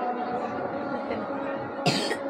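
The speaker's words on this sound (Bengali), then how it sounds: "আজকে কাশতেছে অনেক" A person coughs once, sharply and close, near the end, against a continuous murmur of household background sound.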